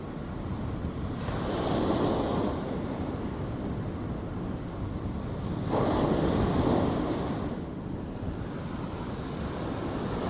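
Rough-weather surf breaking on Clacton beach, with two louder wave surges rolling in over a constant roar of water and heavy wind buffeting the microphone, no voices.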